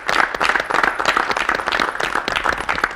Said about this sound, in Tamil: மீண்டும் ஒரு முறை உங்களுக்காக நீங்களே சபாஷ் அப்படின்னு சொல்லி ஒரு கைத்தட்டல் கொடுத்துக்கோங்க.